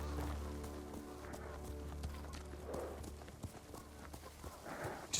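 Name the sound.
horse hooves clip-clopping in Ghost of Tsushima video game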